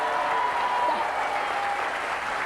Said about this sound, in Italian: Mi eccitano gli applausi.